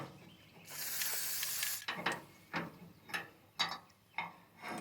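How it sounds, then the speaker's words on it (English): Hitch pins worked out of a tractor's three-point hitch implement on a Kubota L3800 after being sprayed, a long spray hiss followed by a series of short metallic clicks and scrapes, close and fairly quiet. "I'm going to take the pins out."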